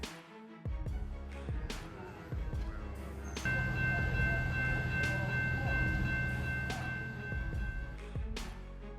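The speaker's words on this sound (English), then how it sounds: "a collision between an Amtrak train and a tractor trailer turned the tracks into" An Amtrak train collides with a tractor trailer at a Texas rail crossing, heard as loud rumbling train noise with a sustained horn blast partway through and heavy impact thuds.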